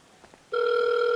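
A telephone rings in a Rockstar Editor game scene, a steady loud electronic tone that starts abruptly after a few faint knocks and holds unbroken to the end.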